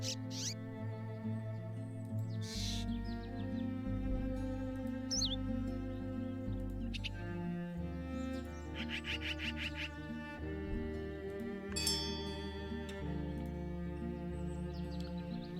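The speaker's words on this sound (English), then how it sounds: "So when you click on birds, you hear their little bird sound." Song sparrow call played in the Wingspan board video game, a series of bright chirps and trills over a steady soft musical backdrop, fairly clear and close.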